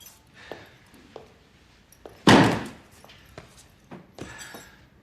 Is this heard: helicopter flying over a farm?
no